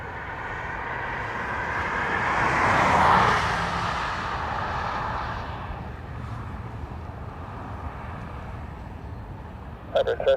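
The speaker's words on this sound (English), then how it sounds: "Ryanair from Madrid, about to land." A Ryanair jet from Madrid comes in to land at Dublin Airport, its whooshing engine roar swelling to a peak and then fading into a low, distant rumble.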